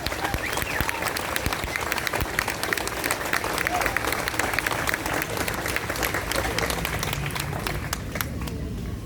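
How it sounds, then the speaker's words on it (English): A crowd at a community rally in Highland Park applauds steadily, dense clapping sustained for about nine seconds at a moderate distance, with some speech murmur underneath. "Can we give them a round of applause?"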